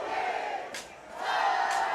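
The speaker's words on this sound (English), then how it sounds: "And this crowd still fired up" A crowd at a high school varsity football game cheers and yells loudly in two swelling waves, with a brief dip between them.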